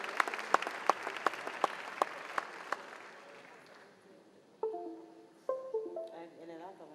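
Applause from an audience at a Ballon d'Or 2023 awards ceremony, with sharp scattered claps fading over a few seconds before music and a voice take over.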